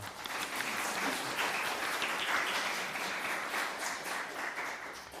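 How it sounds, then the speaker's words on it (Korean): A church congregation gives a warm round of applause to welcome a visitor at a Sunday service, a thick, continuous clapping that stays strong throughout, with a few brief voices underneath. "우리 뜨거운 박수로 환영하겠습니다"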